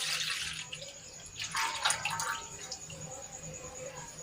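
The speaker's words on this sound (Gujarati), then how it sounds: "આ દૂધ છે એ આપણે આમાં ઉમેરી દઈશું" Milk poured into a water-rinsed steel cooking pot, a steady liquid splash and trickle with a brief louder gush midway, close and fairly quiet.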